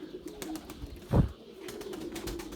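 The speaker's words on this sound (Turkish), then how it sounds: "Çıldırıyor bizim kuşlar" A single low pigeon coo stands out clearly against quiet background ambience, with faint rustling around it.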